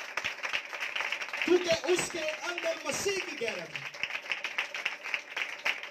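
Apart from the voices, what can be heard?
church congregation applauding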